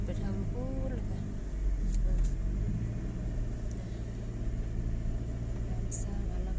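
A vehicle rides around the grounds of a huge restaurant, its engine giving a steady low rumble close by throughout, with someone talking over it.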